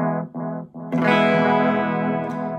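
Electric guitar through a Strymon El Capistan tape echo pedal set with tightened bass in the repeats: a few short plucked notes, then a sustained chord ringing with a smeared, chorused echo tail.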